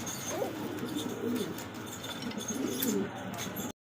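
Danish pigeons in a loft give low, continuous cooing close at hand, steady throughout with faint background chirps, ending in a sudden cutoff.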